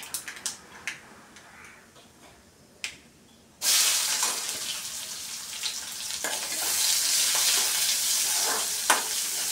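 Chopped onions dropped into hot oil after mustard seeds finish popping, for a Kerala-style chickpea curry: a few sparse pops, then a sudden loud sizzle that stays steady with occasional crackles, heard up close.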